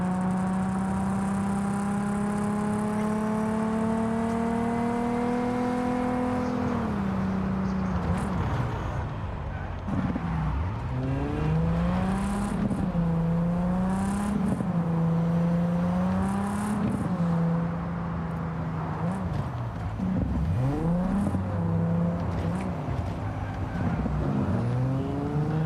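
Car engines in Cyberpunk 2077 whine and rev, pitch sweeping up and down through gear changes and passes, steady and loud throughout, with speech faint beneath.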